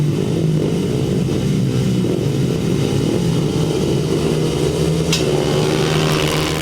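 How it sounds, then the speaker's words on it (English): Several 350cc grasstrack racing motorcycles idle and rev on the start line at a 2007 Winchester meeting. The engines make a steady, loud, buzzing drone that runs continuously throughout, with no talk. "The 350cc machines on the line, ready for their race now."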